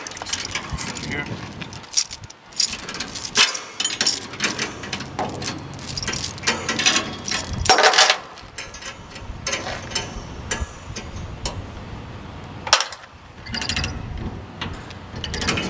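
A ratchet strap securing a load on a truck is worked in quick bursts of clicking and metallic ratcheting, close and loud, broken by short pauses and handling noise.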